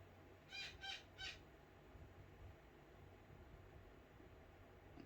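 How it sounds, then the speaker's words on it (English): Pet birds call from their cages in a room, three short, faint, high chirps close together near the start, then quiet background hiss with no talking. "I'm sorry about my birds in the background."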